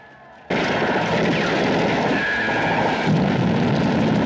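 Grenade blasts in a film scene where grenades are tossed from a car's window on a dirt road, a sudden loud roar of explosion that lingers as a dense rumbling wash for several seconds.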